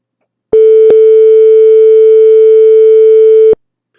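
A steady test tone quantized to 5 bits per sample with 32 levels sounds as a loud, constant pitched hum with a buzzy edge, starting abruptly, holding for about three seconds and cutting off cleanly.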